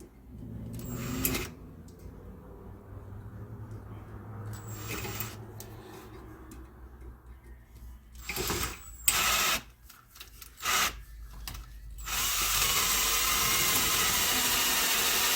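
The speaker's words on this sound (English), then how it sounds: "Let's take that drill and drill that a little again." A drill bores into an exhaust manifold for a 1974 Dodge D100 pickup with a 225 Slant 6 engine, running in several short whirring bursts separated by pauses, ending in a longer sustained run.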